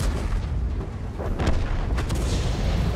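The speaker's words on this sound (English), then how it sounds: "Artillery shoots at the Super Conqueror" Artillery fire in World of Tanks lands around a Super Conqueror heavy tank: dense, continuous rumbling battle noise with a couple of sharper blasts near the middle, loud and close throughout.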